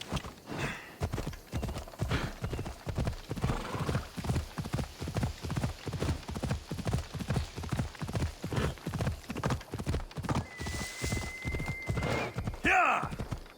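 A horse galloping in the Assassin's Creed Odyssey video game, with rapid rhythmic hoof clops running steadily for most of the stretch and a neigh near the end.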